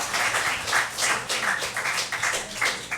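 Audience applause at a council special business meeting, a steady wash of many hands clapping that swells and dips over a few seconds, fairly close and with no voices over it.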